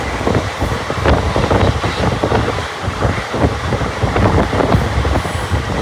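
A passenger train runs at about 85 km/h on the Ballari to Mantralayam route, heard from inside the coach as a steady loud rumble with rapid rhythmic wheel clatter and occasional faint squeals throughout.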